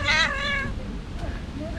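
An angry white cat lets out a loud, drawn-out meow that fades into a noisy indoor room with some background sound.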